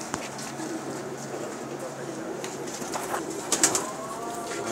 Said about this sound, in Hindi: ये सब बाजी वाले कबूतर हैं जिनके पहले भी आपको दिखा चुके हैं, आज फिर दिखा रहे हैं।